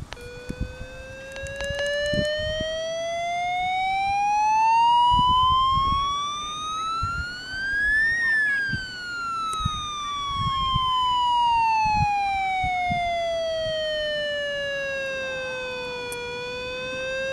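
A Midland HH51 weather radio's alert test tone: a loud wailing siren sweeps slowly up in pitch and then back down, steady and continuous, with a few brief clicks underneath.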